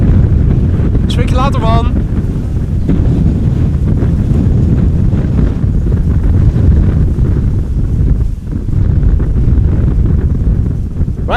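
Strong crosswind gusts buffet a tripod-mounted camera microphone at Amsterdam Schiphol Airport, producing loud, continuous low rumble throughout, with a brief spoken exchange near the start.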